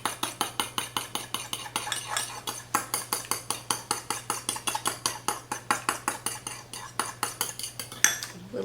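Egg yolk and cream whisked in a bowl for a rich pie filling, a fast steady run of metallic clinks and taps against the bowl, close and lively, with no talk.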